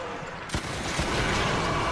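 Rapid-fire shots from a bowgun in Monster Hunter 3 Ultimate, a burst of quick repeated blasts that starts sharply and keeps up loud and dense to the end.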